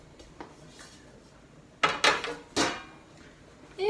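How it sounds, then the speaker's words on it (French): An aluminium baking tray is set down on a waffle mould and the stack is flipped. A few sharp, close metallic clanks and rattles ring out alone after a quiet lead-in. "Une deuxième plaque alu et je retourne."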